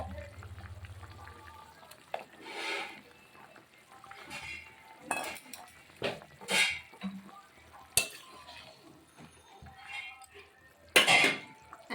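Duck eggs go into a simmering potato curry in a pot. There are scattered clinks and taps of a utensil against the pot over a soft bubbling simmer, with a few louder scraping stirs, and a voice speaks briefly near the start.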